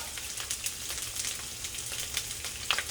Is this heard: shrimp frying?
yes